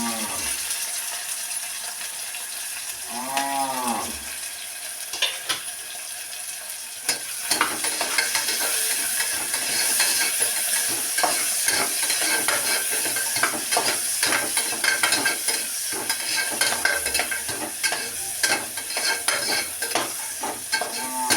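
Onions sizzle and crackle steadily in hot oil in a pressure cooker, a dense frying hiss that grows louder after a short stirring clatter near the start, close and continuous with no talk.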